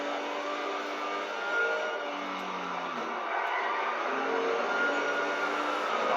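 A car engine in a video game revs steadily, a continuous strained mid-pitched drone with small rises and dips in pitch, holding a constant level throughout.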